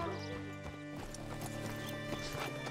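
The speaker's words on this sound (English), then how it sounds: "Oh, I gotta hitch up the horse." Horse hooves clip-clop steadily in Red Dead Redemption 2, with a brief whinny and game music and ambience layered underneath.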